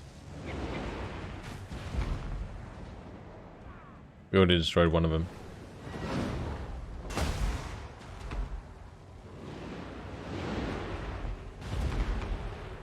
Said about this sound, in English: I'm going to try and take out their warp lightning cannons with my own